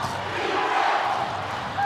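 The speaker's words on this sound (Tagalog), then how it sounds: "Crowd coming alive." Basketball arena crowd at an MPBL regular-season game, Quezon against Nueva Ecija, roaring steadily in a sustained dense wash of cheering and noise with a commentator's voice faintly audible underneath.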